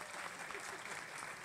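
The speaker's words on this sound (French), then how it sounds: "sous vos applaudissements, s'il vous plaît" A conference audience in Kolwezi applauds a guest, a steady wash of many hands clapping at moderate distance, fairly faint and continuous throughout.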